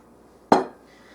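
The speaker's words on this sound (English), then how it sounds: "we are going to add in 2 eggs" A single sharp knock of an egg against a mixing bowl of chocolate cake batter rings out once, close and clean, then fades into near silence.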